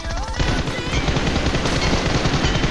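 Rapid automatic gunfire from an AMR rifle in the BGMI mobile battle royale game, a dense burst of loud repeated shots that continues steadily for several seconds with no voices.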